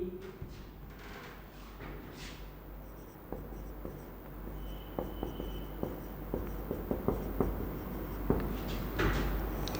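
Chalk or marker writing on a board during a thermodynamics lecture, a string of close, crisp taps and scratchy strokes in irregular rhythm over a quiet room hum, with no talk.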